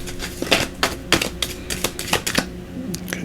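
Tarot cards shuffled by hand during a monthly Virgo reading, giving a run of quick papery riffles and flicks, steady and close, with no talking.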